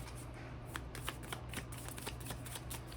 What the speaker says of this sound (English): I'm gonna pull a card from Celtic magic.